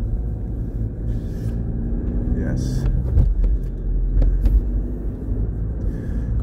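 A Shelby car engine idles steadily after a cold start on a freezing morning, a close, continuous low rumble with a few brief knocks, while someone says a single word over it.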